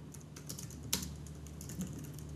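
Keystrokes on a computer keyboard, a quick run of light close taps with one sharper clack, faint and alone.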